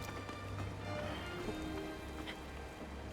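Steady rain patters continuously with a soft hiss, even and unbroken throughout, with no voices.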